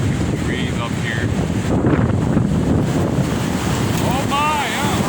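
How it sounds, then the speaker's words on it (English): Strong wind gusts roar during a windstorm near water and trees, a loud continuous rushing that swells and buffets the microphone, with faint bird calls and brief voices in the background. "These winds are really, like I said, I think they're getting stronger, these gusts."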